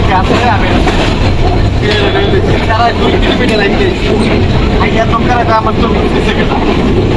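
A passenger train runs on the rails from Dhaka to Panchagarh, its steady, loud rumble and rattle filling the whole stretch while people talk over it.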